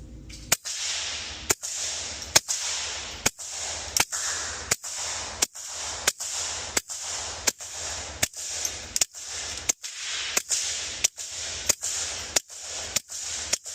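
A Sig P322 .22 pistol fires a long string of about twenty sharp, evenly spaced cracks using Fiocchi copper-plated round-nose and CCI Clean 22 subsonic rounds, each shot loud and close over faint background hiss.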